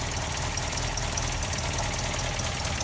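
An MGA MK2 car engine idles after starting on the button without choke, giving a steady low rumble with a rhythmic throb that continues evenly throughout.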